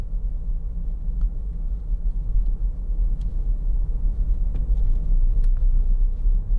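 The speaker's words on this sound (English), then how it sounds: "that's just ticking over" A 2011 Peugeot 3008 2.0 HDi FAP diesel engine idles with a steady, low, even rumble close by, with faint ticks and clicks above it and no voices.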